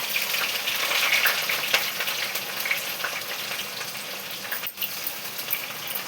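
Onions and green chillies fry in a pan with a loud, continuous crackling sizzle, steady throughout with small pops and a brief scrape of stirring.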